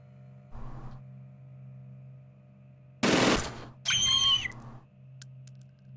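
An auto shot of gunfire in the Stellar Tactics video game comes as a loud dense burst, then a whistling electronic effect. A short muffled thump precedes them, with quieter game sounds after.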